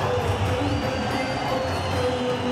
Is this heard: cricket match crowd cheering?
yes